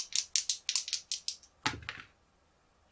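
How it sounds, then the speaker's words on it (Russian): Dice for the Machi Koro board game rattle in a hand in quick shaking bursts, then tumble onto the table in a short clatter before quieting, heard up close with no talk. "Бросаю кубики."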